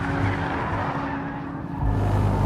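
A 2013 Nissan GT-R Black Edition, 550 horsepower with all-wheel drive, lapping a track with a loud steady engine drone and brief tire slip, no talk.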